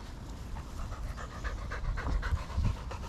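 A dog pants rapidly and rhythmically close by while out on a walk, the quick breaths steady and fairly loud throughout.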